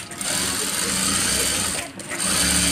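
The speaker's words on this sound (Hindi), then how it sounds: "तो गाइस ये मैंने सिलाई लगा लिया, तो इसका ऊपर से और एक ठू मैंने सिलाई लगाएंगे।" Sewing machine stitching a zip onto a frock: a close, loud, steady mechanical whir running continuously, with a brief dip near the end before it resumes.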